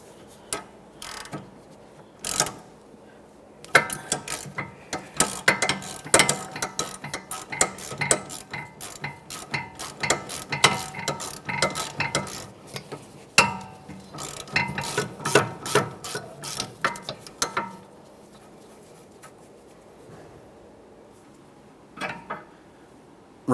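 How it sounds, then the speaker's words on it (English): 17mm ratchet loosening the front sway bar link nut on a Toyota Sienna, rapid clicking pawl strokes in repeated bursts for about eighteen seconds, close and clear, then a couple of faint clicks after a pause. "we'll use a 17mm to remove that nut"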